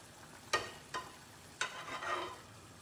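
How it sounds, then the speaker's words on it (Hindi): A spoon scrapes and taps in a pan while skimming starch off frying vegetables, a few sharp close clinks over a faint steady sizzle. "उसमें एक चम्मच से इस स्टार्च को आप हल्का सा हटा दीजिए"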